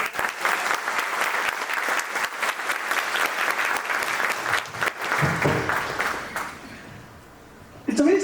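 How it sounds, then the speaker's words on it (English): Audience applause for distinguished guests and speakers at a school Founder's Day event, a loud sustained crowd clapping for about six seconds that fades away, followed by a short quiet stretch and a brief burst at the end. "For the distinguished guests and the speakers in the room, may I have a loud round of applause in advance?"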